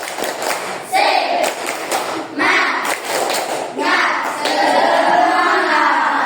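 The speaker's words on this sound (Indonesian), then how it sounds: "semangat dulu ya. Tepuk semangat." A group performs a rhythmic spirit clap, bursts of clapping in a patterned sequence with short pauses between, close and fairly loud, with children's voices chanting along between the claps.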